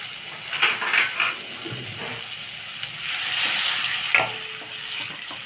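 Bread upma with tomato cooking in melting butter in a pan, a soft hissing sizzle with intermittent spatula scrapes and a brief clink against the pan, no talking.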